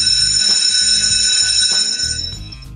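A school bell ringing loudly and continuously in a sustained metallic peal, fading slightly toward the end, with no voices.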